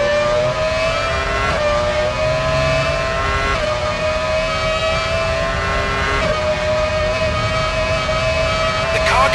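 Formula One car engine droning steadily in the pit lane in Formula One Championship Edition, a Scuderia Toro Rosso car at Monza, with a sustained harmonic whine that shifts pitch a few times over continuous loud engine and background noise.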